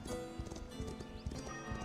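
A horse clip-clopping in a video game, with quiet, rhythmic hoof beats on a hard surface and a faint whinny, under low background music.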